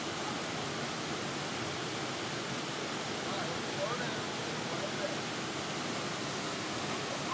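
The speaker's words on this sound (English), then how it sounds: "what do you think about the waterfall?" A waterfall roars as a steady, dense rush of broadband water noise, constant and fairly even, with no clear voices over it.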